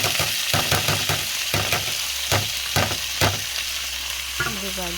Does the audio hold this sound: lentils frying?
yes